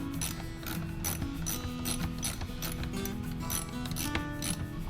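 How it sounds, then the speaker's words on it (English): Repeated clicking of a ratchet with a 7mm socket loosening small bar clamps on the air pipe of a 2012 Buick Regal Turbo, a steady close mechanical chatter lasting the whole stretch with no talk. "you just need a 7mm for these little bar clamps, and then we'll just go ahead and take all those off"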